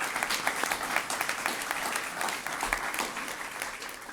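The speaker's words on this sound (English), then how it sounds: "Yeah, a round of applause for that." An audience at a Women's History Month celebration gives a steady round of applause, dense clapping at moderate distance that carries evenly for about four seconds with a faint voice underneath.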